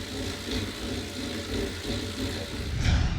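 A Tacx NEO 2 smart trainer simulates riding on gravel, giving a steady low rumbling drone with a faint rattling texture and a slightly louder surge at the end, close and continuous.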